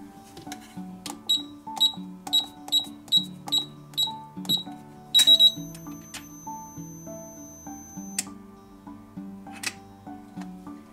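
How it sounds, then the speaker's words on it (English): An LA GARD 702 electronic safe lock gives its open signal: a series of short, clean electronic beeps in quick succession, then a longer tone, with light mechanical clicks in a quiet room. "The signal to open is three green flashes with three beeps."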